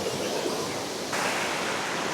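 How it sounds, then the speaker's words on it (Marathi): Forceful river water at Kundamala near Pune, rushing as a dense, steady broadband roar close by that swells a little louder halfway through. "पाण्याला फोर्स बघा"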